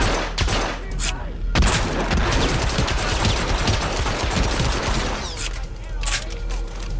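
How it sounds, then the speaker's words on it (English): Sustained rapid gunfire from the video game Hitman Absolution, Rosewood mission: dense, loud overlapping bursts of automatic shots that continue almost without pause, with brief voices mixed in. "Yeah, that was a gun."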